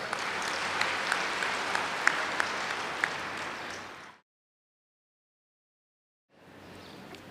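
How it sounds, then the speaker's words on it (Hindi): An audience at a spiritual talk breaks into applause, a dense, steady patter of clapping with a few sharper claps standing out. It cuts to silence after about four seconds, then fainter clapping returns. "अपने लिए ताली बजा लो थोड़ा।"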